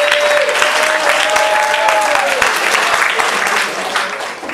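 A theater audience applauds to welcome the actors onstage, a dense, steady wash of clapping close by with a host's voice running over it before it tapers off.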